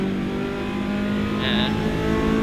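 A 750 Motor Club hot hatch race car accelerates during a 2019 qualifying session at Silverstone, its engine droning steadily and close, with a brief higher-pitched whine partway through.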